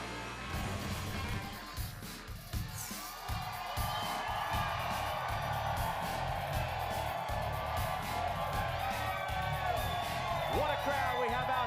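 Large crowd cheering and whooping at the Pocono NASCAR race in Long Pond, Pennsylvania, a broad, steady roar with scattered shouts, running beneath continuous announcer speech.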